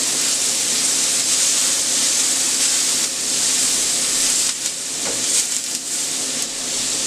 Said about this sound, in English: Give us a little more oil. Start sauteing this up.